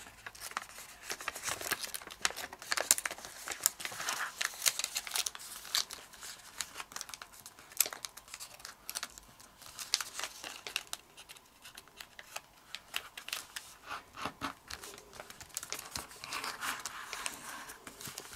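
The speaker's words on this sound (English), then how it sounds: "now take this flap and insert it underneath these two flaps" Origami paper being folded, creased and tucked by hand while making a triple-bladed spiral shuriken, a continuous close crinkling and rustling with soft crisp taps, no voices.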